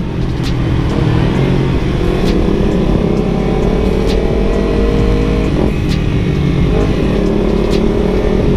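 Close and loud, the exhaust of a Kawasaki Ninja 250 FI motorcycle drones steadily while riding, with the engine note holding fairly even and small shifts in pitch.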